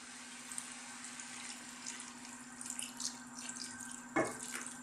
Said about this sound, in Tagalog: at maglalagay po tayo ng konting tubig.